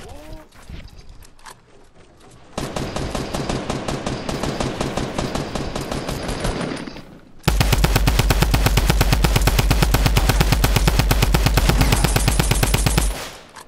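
Rapid automatic gunfire in a video game rattles in long, dense bursts, loud and close. A short spell of lighter firing gives way to a heavier, sustained barrage that ends abruptly.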